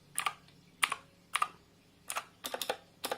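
Typing on a Redragon Varuna keyboard: short, crisp clusters of clicky keystrokes close up, coming in uneven bursts with brief pauses between them and no talking.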